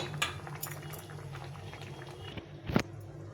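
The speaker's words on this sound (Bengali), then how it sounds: "আর সবজিটাকে ভালো করে ডালের সঙ্গে সেদ্ধ করে নিতে হবে, যেন কাঁচা না থাকে।" Dal with ridge gourd and pointed gourd boiling in a pot: a steady, close bubbling simmer with a few sharp utensil clinks against the pot, no voices.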